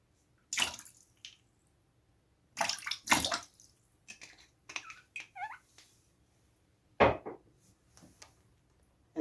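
Water sloshes and splashes in a foot bath of water mixed with apple cider vinegar, coming in several separate bursts with quiet gaps between them, close and fairly loud with no talk.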